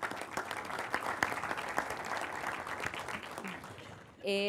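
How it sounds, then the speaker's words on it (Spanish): Audience applause rings out at a corporate sustainability panel discussion, a dense patter of clapping that stays moderately loud and then cuts off as a voice starts at the very end. "Así que le damos un aplauso a Fernando."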